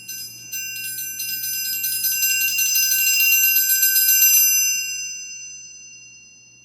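Metal triangle rolled in its corner with a fast up-down beater motion, a bright shimmering tremolo ring that swells steadily for about four seconds, then stops and leaves a fading sustained ring.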